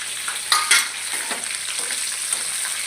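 Garlic cloves, green chillies and tomatoes hit hot oil for a peanut-tomato chutney, giving a sharp burst of sizzling followed by a steady crackling fry, close and loud, with no voices.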